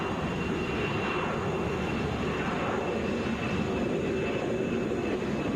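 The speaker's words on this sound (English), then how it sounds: "This is Delta 1641 headed to Houston, Airbus A320. Wheels are up there" A Delta Airbus A320 bound for Houston climbing away from Atlanta International Airport with its wheels up, giving a steady, unbroken broadband jet roar at even loudness throughout, with no voices over it.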